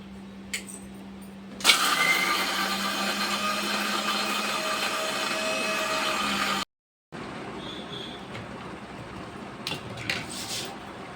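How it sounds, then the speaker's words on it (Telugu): A mixer grinder starts with a jolt and runs with a loud, steady whine for several seconds, stops briefly, then runs again more quietly. "ఇవి ఇప్పుడు నేను మిక్సీ పెడతాను"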